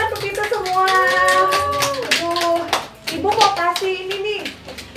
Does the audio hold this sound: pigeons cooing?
no